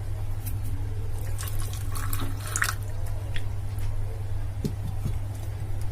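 Water trickles steadily into a zalabia dough mixture in a bowl with yeast, with a soft continuous pouring and light splashing over a low hum throughout.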